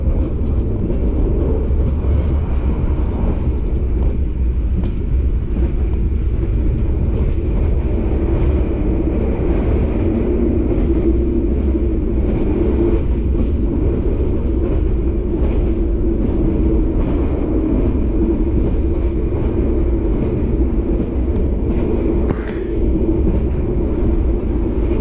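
The KA Gunung Jati train runs at night with a continuous low rumble and rattle of wheels on track, steady and unbroken for the whole stretch, with no voices.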